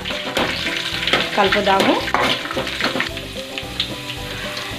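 Green chillies fry and are stirred in a pan for a fish curry, giving a loud close sizzle with scraping stirring strokes, while a voice speaks briefly.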